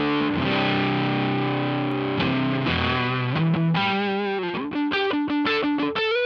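Guitar through a Mozztronics EX-1 Expandrive pedal with the knob turned clockwise, producing aggressive distorted chords and then quicker choppy riffing, loud and close, with no talking.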